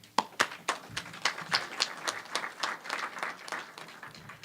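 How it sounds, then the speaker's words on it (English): An audience at a university alumni hall of fame banquet claps in a moderate, uneven patter, individual hand claps distinct and fairly close, sustained at even strength to the end. "So if you guys give her a round of applause"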